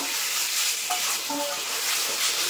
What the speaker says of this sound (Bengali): এই দেখো এরকম ভাবে আমি কষিয়ে নেব